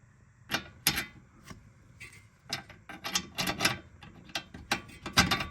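Metallic clicks, ratcheting and clunks come up close as the top bolt goes into a Porsche 944 front coilover, irregular bursts with short pauses between them.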